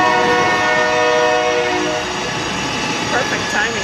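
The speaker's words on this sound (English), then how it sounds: "Perfect timing with the trains, right?" A train passes close by, its horn sounding in sustained tones over the heavy rumble and clatter of railcars, loud and continuous throughout.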